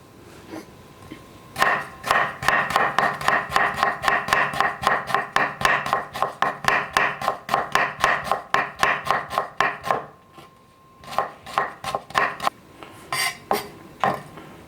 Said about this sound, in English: So what we're going to do, we're going to actually thinly slice this.